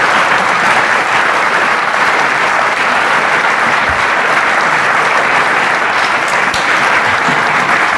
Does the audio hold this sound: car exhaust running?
no